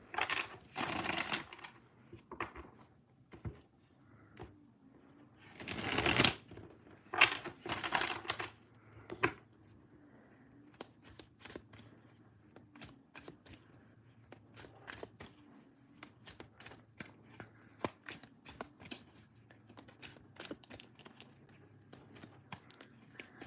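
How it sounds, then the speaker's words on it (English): Crisp bursts of tarot card shuffling early on, riffling and rustling, followed by softer intermittent taps and ticks of cards being handled close by. "Let's give these cards a good shuffle"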